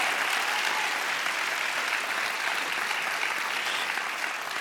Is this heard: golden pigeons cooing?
no